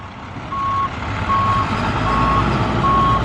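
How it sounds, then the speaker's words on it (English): A rail truck reversing along a railroad track while crossing a street, its backup alarm sounding four evenly spaced electronic beeps over a low engine rumble, fairly close. "That's like a truck that is able to drive backwards on a railroad track."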